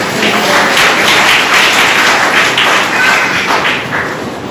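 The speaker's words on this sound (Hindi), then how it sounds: "प्रभु के जोर से ताली बजाइए।" A church congregation at a Palm Sunday service claps loudly in unison: a dense, steady stream of hand claps for about four seconds, close and full, easing slightly at the end.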